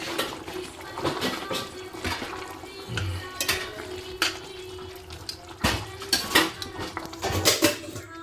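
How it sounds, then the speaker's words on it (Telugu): Ground gongura paste being mixed into a cooking pan, with repeated clinks and scrapes of a metal spoon against the pan, some louder knocks, no talk. "ఇట్లా గోంగూర ఒకసారి వేసేసుకున్న తర్వాత ఇట్లా ఒకసారి కలిపేసుకోవాలి"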